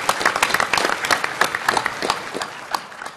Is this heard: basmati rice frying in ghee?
no